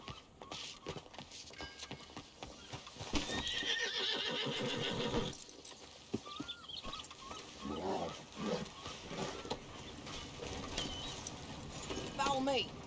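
Horse in Red Dead Redemption whinnying loudly near the middle, with hoofbeats clopping and further snorts and neighs around it, while people talk intermittently.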